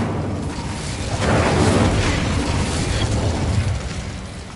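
An Incendio fire spell in Hogwarts Legacy erupts as a loud, continuous whooshing roar of flame, swelling after a second and holding steady for several seconds before tapering slightly, with no voices.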